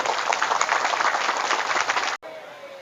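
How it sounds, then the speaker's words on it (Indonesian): Crowd applause at an Indonesian religious gathering, a dense wash of clapping sustained for about two seconds before cutting off abruptly into near silence. "Tepuk tangan."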